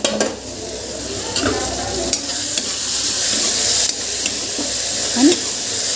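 Chutney frying and being stirred in a pan, a loud continuous sizzle with scraping stir strokes and occasional clinks. Faint voices sound in the background.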